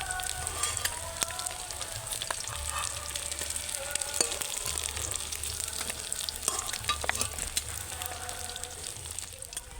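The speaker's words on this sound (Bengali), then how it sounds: "দেখুন এখানে মাছটা ভাজা হয়ে গেছে" Pieces of rui fish fry in hot oil, giving a steady close-up sizzle and crackle with frequent sharp pops and some stirring scrapes throughout.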